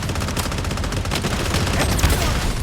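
Rapid bursts of automatic gunfire in the shooter game Blood Strike, loud and close, with dense overlapping shots and a brief murmur of voice underneath.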